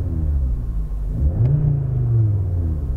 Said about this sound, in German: gehe mal gleich zum emotionalen Start in den RS-Modus, damit wir auch gleich die 5 Zylinder hören